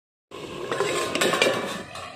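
Methi greens and potatoes are stirred in a pan, with steady scraping and clinking of a utensil against the metal after a short silent start, fairly close and continuous, without talk.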